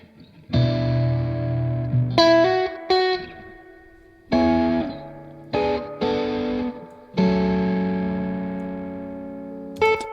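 Electric guitar riff played through a silver Llama amp simulator plugin with light reverb and echo, chords ringing out between short choppy notes, no voices.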